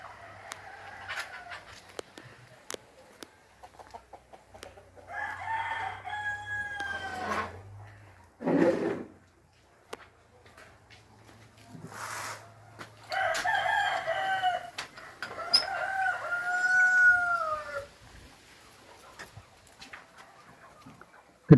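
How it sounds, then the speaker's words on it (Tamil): Chickens and roosters in the coops of a poultry farm holding about 2000 birds. Several loud, drawn-out crows rise and fall at intervals, with scattered clucking and rustling in between, fairly close and with no talking. "இப்போ நாம் கோழிக்கூடுகளை பார்வையிடலாம் வாருங்கள்."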